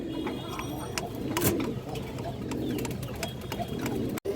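Pigeons coo steadily and close by in soft, low, rolling calls, with faint background noise and no speech.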